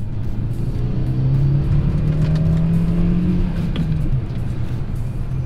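A 2013 Hyundai Veloster Turbo drives along with a steady engine hum and road noise, the engine pitch rising slightly as it accelerates, heard from inside.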